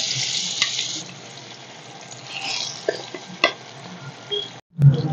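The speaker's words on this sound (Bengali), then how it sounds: "এখন এই মাছগুলো ভেজে নেব।" Fish fry in hot mustard oil in a wok, a close, steady sizzle with stirring clatter and brief louder bursts of spattering oil, no talk.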